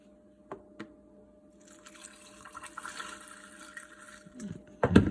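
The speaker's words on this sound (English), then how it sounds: "So I have a cup of crushed ice. We're gonna pour it over." Creamy dairy-free horchata is poured over a cup of crushed ice, a soft, quiet liquid trickle after a couple of faint taps, ending with a brief clunk and splash near the close.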